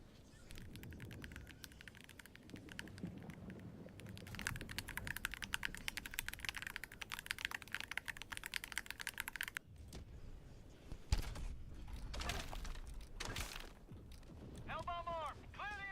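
Rapid clicking keystrokes from a computer keyboard run steadily through most of the stretch, fairly close and moderate in level, with a voice talking over parts of it and brief chirpy tones near the end.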